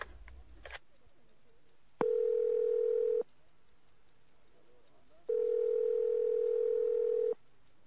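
A telephone ringback tone sounds during a call, with two long, steady electronic beeps separated by a pause of about two seconds, following a brief click at the start.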